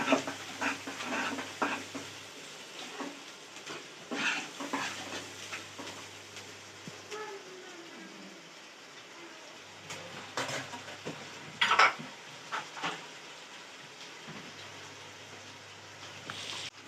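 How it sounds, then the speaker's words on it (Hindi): Quiet frying and stirring of kofta masala with garlic in a pan, soft intermittent scraping and clinks of a utensil against the pot over a faint sizzle, mostly sparse and low. "दोनों को हम अच्छी तरीके से भून लेंगे।"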